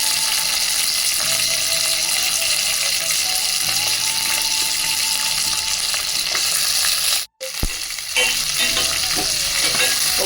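Peanuts, onion, green chillies and dried red chillies frying in a pan make a loud, continuous sizzle with stirring, broken by one brief dropout before the sizzle resumes.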